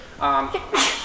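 A single short sneeze, close and fairly loud, rises into a sharp burst at the end, preceded by a brief voiced intake.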